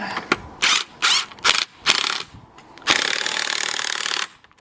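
Impact wrench tightening the nut on a car's strut top mount: four short loud bursts of rattling hammering, then a long sustained burst, close up with no speech.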